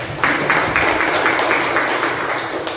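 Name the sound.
classroom applause for students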